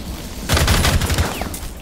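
A loud burst of automatic gunfire in Rainbow Six Siege rattles off rapidly for under a second after a quiet moment, then fades into a faint tail.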